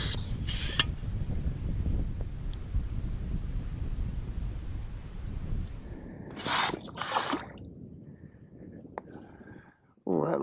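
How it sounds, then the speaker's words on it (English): A yabby pump with a worn washer works through wet sand, giving squelching, sucking strokes and gurgling drips up close, with a few sharper bursts and a pause near the end. "This pump actually needs a new washer, so it's not the best for pumping yabbies at the moment."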